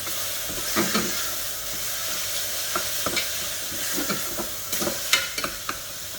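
Dry spices and salt sizzling in a pan with a spoonful of water for a lauki-tamatar sabzi, a steady steamy hiss with scattered sharp crackles and stirring clicks throughout, close and alone.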